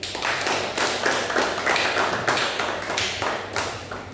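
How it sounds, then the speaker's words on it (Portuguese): A church congregation claps together in a steady, dense burst of applause that keeps up at an even level for several seconds. "E para Jesus, uma salva de palmas."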